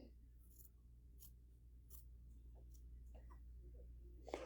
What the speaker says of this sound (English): you would want to snip to that 1/4 inch all the way down